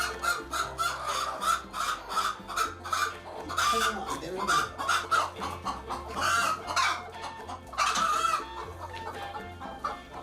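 Cheonggye chickens clucking on a Korean Hanwoo cattle farm, repeated bursts of close, busy clucks and squawks with a possible crow, against steady low farmyard rumble.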